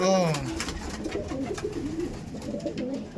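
Kalanka pigeons, a male and female pair in a loft, coo close by in soft repeated rolling calls, with someone speaking over them at the start.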